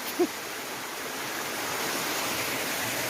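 A river flows steadily at a riverside, its broad, constant rushing wash filling the scene evenly from start to finish, with a brief faint vocal sound near the beginning.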